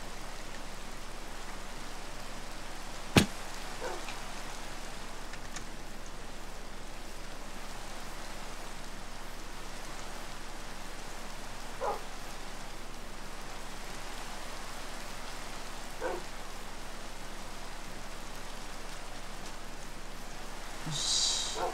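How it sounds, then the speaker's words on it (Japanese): Steady rain falls in Minecraft, a soft, even hiss that runs throughout at low volume, broken only by a sharp click early on and a few faint taps. "おっと雨。"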